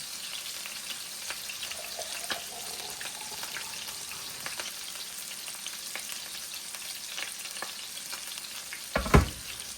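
A burger patty sizzles steadily in a hot pan, a constant crackling hiss with scattered pops and a louder spatter near the end.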